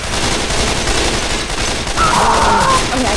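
Rapid gunfire at a Charger in the video game Left 4 Dead 2, a dense continuous fusillade of shots with a brief tonal whine midway, loud and sustained.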